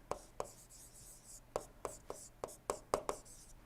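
Pen or chalk writing by hand during an engineering lecture, a series of sharp, close taps and short scratchy strokes in an uneven rhythm, clustering toward the end, over a quiet room hum.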